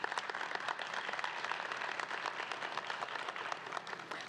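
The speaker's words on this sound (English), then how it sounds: "Please give him a round of applause." Steady audience applause fills a university Founders Day ceremony, many hands clapping densely and continuously at moderate distance, with no voices over it.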